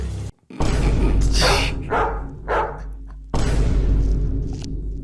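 A dog barks several times in quick succession, loud and close, with short bursts spread across a few seconds and a steady low hum underneath.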